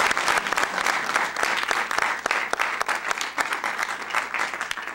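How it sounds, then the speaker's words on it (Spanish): Audience applause at a live radio concert of Frederick the Great's music with fortepiano and cello, steady clapping from a crowd throughout, close and fairly loud without a break. "a un aplauso."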